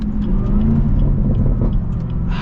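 A 2024 Chevy Camaro ZL1 exhaust rumbles and burbles at close range, a deep uneven throb with slight revving swells throughout.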